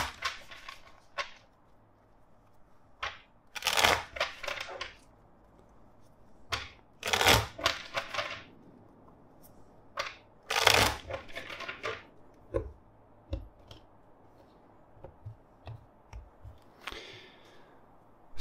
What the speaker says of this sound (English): first let's shuffle four times.